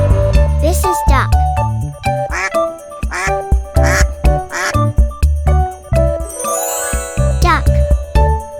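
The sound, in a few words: duck quacking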